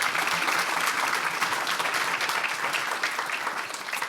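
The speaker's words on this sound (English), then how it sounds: "If we could give them a round of applause" Steady applause from a conference audience, dense clapping that holds throughout and fades slightly at the end.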